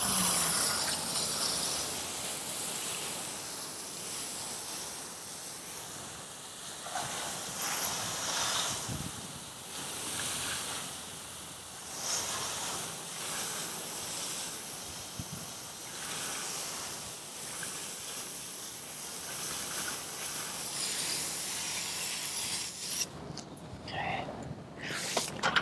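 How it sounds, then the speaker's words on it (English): Hose with a fireman nozzle spraying water onto a Mustang SN95 wheel and tire, a steady broad hissing rush of water that continues close and loud throughout, with brief shifts as the spray moves. "I'm gonna grab my hose with a fireman nozzle, and I'm gonna go ahead and start rinsing off my wheel"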